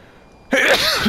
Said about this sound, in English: I'm gonna die if I keep sneezing in this area.